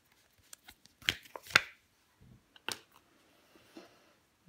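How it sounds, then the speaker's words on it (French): Tarot cards being handled during a reading: a few quick papery flicks and snaps, close and fairly quiet, separated by short pauses with no talking. "Bon, on va recouvrir des cartes."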